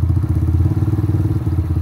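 Motorcycle engine pulling away as the clutch is eased out and the throttle opened during a beginner riding lesson, a steady close mid-pitched throb with rhythmic pulsing, no talking.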